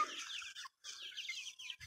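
Backyard chickens foraging along a fence cluck close by in two quick runs of busy chatter, separated by a brief pause.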